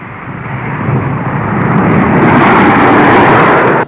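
A low-flying passenger jet roars overhead, a broad loud rumble that swells steadily and holds at full strength before cutting off abruptly, with no voices over it.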